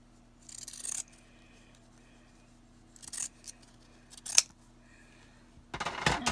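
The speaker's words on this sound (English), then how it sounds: "Let's cut this border off here." Scissors cut a border off a piece of velvet fabric in four short, close snipping bursts separated by quiet pauses, with no talking.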